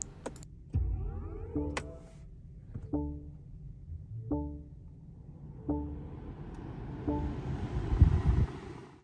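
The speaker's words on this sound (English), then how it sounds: "So the car sounds like a spaceship when you turn it on." A 2022 BMW i4 eDrive40 electric car powers on with a sequence of soft chime-like electronic tones at regular intervals, then a rising whoosh and cabin rustle as the start-up sound swells.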